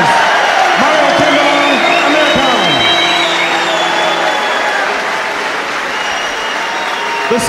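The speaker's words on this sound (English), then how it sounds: "tremendous round of applause for both two of the world's finest amateur boxers" An arena crowd at an amateur boxing bout between Amir Khan and Mario Kindelan applauds loudly and continuously, a thick roar of clapping and cheering with a few whoops, alone and sustained.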